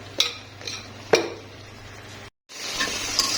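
A spoon scrapes and stirs masala of coriander, cumin, turmeric and chili powder frying in a pan, with a few sharp metallic strokes over a steady sizzle and a brief break in the sound near the end.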